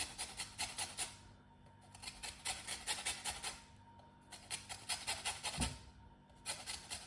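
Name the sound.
grating lime zest with a grater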